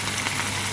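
Curry leaves and dried red chillies frying in hot oil for a tomato chutney, giving a brief, close, steady crackling sizzle with no talk.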